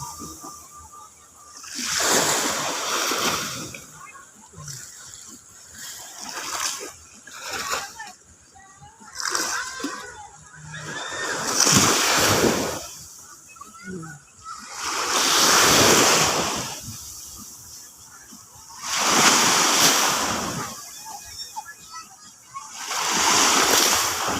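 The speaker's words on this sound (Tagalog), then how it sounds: "Diin grabe ang tubig. Murag ko ng dagat karon murag high tide." Sea waves wash in at high tide and break loudly on a shore near houses, surging in repeated swells a few seconds apart with wind and scattered voices between them.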